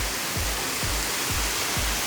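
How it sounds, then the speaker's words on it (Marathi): Continuous loud roar of water pouring down like a dam spillway or waterfall on the Karnala Fort trail, broadband and unbroken, with faint low thumps recurring at regular intervals. "कसं धरणासारखा पाणी पडतंय"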